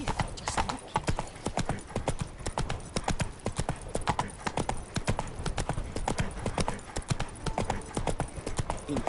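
A horse gallops in The Witcher 3: Blood and Wine on PS5. Its hooves beat in a fast, steady clip-clop rhythm that runs unbroken for the whole stretch, close and prominent.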